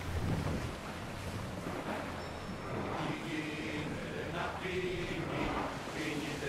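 A sailing ship at sea in the Assassin's Creed Odyssey video game, with a steady wash of wind and water rushing around the hull, loud and continuous throughout.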